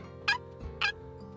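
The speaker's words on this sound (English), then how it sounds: "There's another flapping turkey." Two loud, close wild turkey gobbles about half a second apart sound over a low, steady ambient hum in theHunter Classic, a hunting video game.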